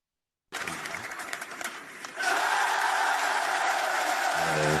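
Crowd cheering sound effect representing about 3,000 people: a wash of cheering starts abruptly, then swells louder and holds as a dense, steady roar.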